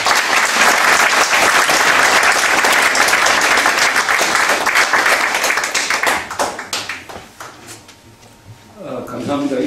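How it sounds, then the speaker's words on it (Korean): An indoor audience at a lecture event bursts into loud, sustained clapping to welcome a speaker, then the applause thins into scattered claps and fades out near the end. "박수로 모시겠습니다"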